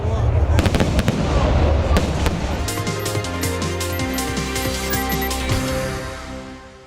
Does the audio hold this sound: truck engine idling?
no